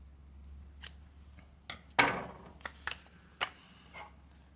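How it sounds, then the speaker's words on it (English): Scissors snipping through yarn while making a Tunisian crochet headband: a handful of short, crisp cuts spaced irregularly, close and fairly quiet over a low steady hum, with no talking. "we are going to cut the yarn"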